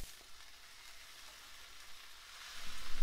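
Corned beef added to a pan of browning onions and potatoes: a steady close hiss of frying that swells louder near the end as the meat hits the hot pan.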